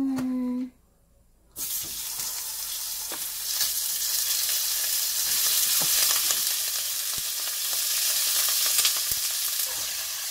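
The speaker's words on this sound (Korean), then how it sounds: "무 그리고 소고기 참기름 넣고 소고기도 넣고" Beef and radish frying in sesame oil for Korean beef and radish soup, a loud, steady sizzle that bursts in after a brief pause and keeps crackling close up, with faint stirring clicks.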